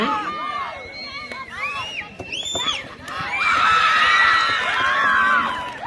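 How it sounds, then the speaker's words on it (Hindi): A crowd at a school sports match cheers, shrieks and whistles, with rising shrill tones swelling in the second half, while a commentator's voice carries over the noise. "और शोर शराबा कीजिए, तालियां बजाइए, माहौल बनाइए, सीटियां बजाइए"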